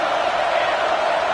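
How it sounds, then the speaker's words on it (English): Stadium crowd roar from a college football video game, Old Dominion at Ohio State, a steady dense wash of noise filling the short span without clear peaks or talk. "This crowd trying to make life miserable for this offense."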